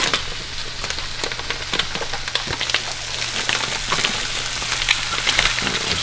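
Food frying in a hot pan during meal prep, a steady loud sizzle and crackle with occasional scraping and stirring clicks, close up and continuous with no talk.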